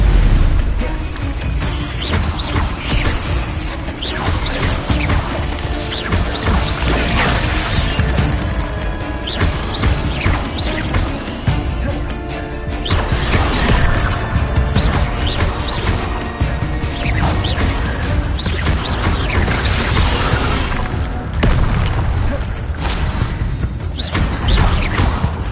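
Spell-casting combat in Hogwarts Legacy brings a loud, busy run of magical impacts, crashes, bursts and whooshing effects, bunched into repeated flurries over game music, with no speech.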